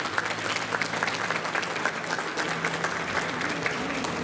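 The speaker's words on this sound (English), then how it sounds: "A big round of applause to yourself" Audience applause at a hotel signing ceremony, a steady, full burst of clapping from a crowd, sustained for around four seconds with faint murmuring beneath.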